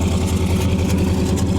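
A bone-stock 1978 Chevrolet squarebody truck engine runs, a loud, close, steady low rumble with an even idle-like pulse and no talk.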